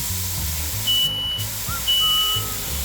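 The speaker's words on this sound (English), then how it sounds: "I guess it's good to know our smoke alarms actually work" A smoke alarm goes off during home cooking, giving two clear high-pitched electronic beeps about a second apart over a steady background hum.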